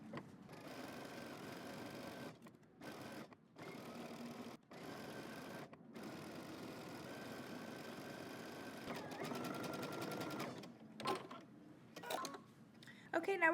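Sewing machine stitching a dress seam in short, quiet runs broken by brief stops, with a fast mechanical whir heard nearby and faint talk at the end.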